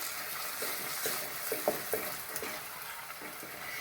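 Eggs go into a pan of onion for anda pyaaz (Turkish menemen), giving a quiet, steady frying sizzle with a few soft stirring clinks.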